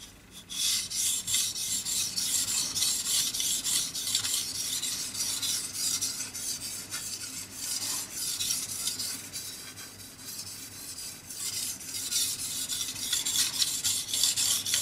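Steel knife blade rubbed back and forth on a King KW-65 6000-grit whetstone, a continuous close, raspy hiss that swells and fades with each stroke in a steady rhythm.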